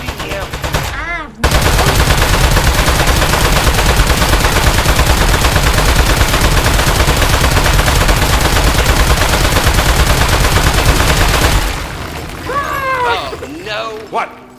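Sustained rapid gunfire at a boss in the video game Aperture Desk Job, a dense continuous burst lasting about ten seconds, loud and close, with people talking briefly before and after it.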